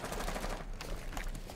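Gunfire in Rainbow Six Siege crackles in rapid bursts, dense and loud, with shots tightly packed across the whole moment and no talking over it.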